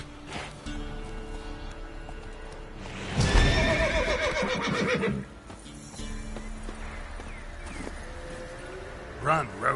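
Roach, the horse from The Witcher 3, gives a loud whinny in the middle, framed by galloping hoofbeats and game ambience. Another short whinny comes near the end, and a voice speaks briefly.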